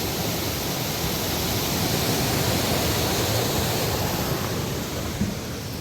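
Chemical-polluted water rushing through a canal at a sluice gate, a constant loud roaring wash with no breaks and no voices.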